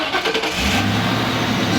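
A 2010 Ford Crown Victoria P7B engine cranks and catches, settling into a steady low rumble close by.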